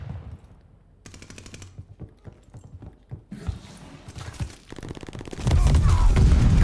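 Rapid pistol gunfire in the shooter game Call of Duty: Vanguard, sharp shots fired in short bursts among game effects, building into a loud, dense burst of noise near the end.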